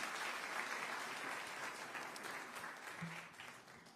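A church congregation claps steadily together to welcome the pastor, a broad even wash of applause that sounds soft and somewhat distant throughout.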